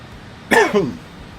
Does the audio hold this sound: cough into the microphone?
yes